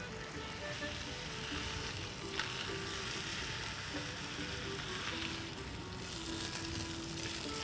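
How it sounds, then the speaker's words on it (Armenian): Trout frying steadily in a pan in a home kitchen, a continuous close sizzle and crackle with light scraping, no voices, holding at an even level throughout. "Այս մասով արդեն երկար պիտի տապակենք"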